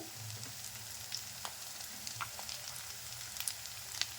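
Fish pakora frying in oil, a soft steady sizzle with scattered faint crackles and pops, low and close, with no voices.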